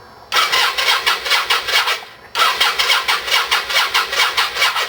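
A Yamaha Virago motorcycle engine, unused for about nine years, cranks and catches twice, each start settling into a loud, close, pulsing rhythm with a short gap between attempts and no talk.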